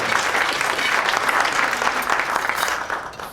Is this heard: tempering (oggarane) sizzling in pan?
no